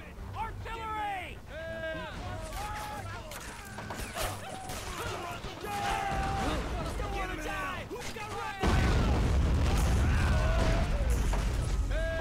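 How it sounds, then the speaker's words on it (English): Artillery fire in a video game lands as a sudden heavy, rumbling blast late on and sustains a broad roar. Before it come scattered mechanical clatter and chatter from several voices. "Artillery!"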